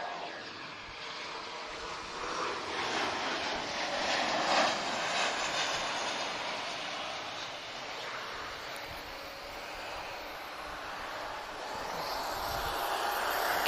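A jet departs Lisbon Airport, heard as a sustained broad engine roar from a distance, swelling and easing slightly over the whole stretch with no talk.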